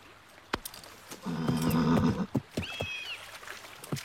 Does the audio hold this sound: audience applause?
no